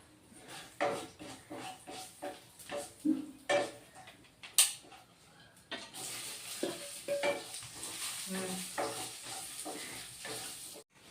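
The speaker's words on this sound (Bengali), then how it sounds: "ভেজে রাখা আলুটাও দিয়ে দিব" Fried potatoes tipped into a pan for a ridge gourd and moong dal dish and stirred, with scraping spoon taps and clinks of metal at first, then a steady loud sizzle of frying under continued stirring.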